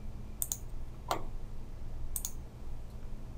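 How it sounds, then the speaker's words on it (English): A computer mouse double-clicks, giving two crisp, close pairs of quick clicks separated by a pause, with one softer single click between them and no talking. "so double click."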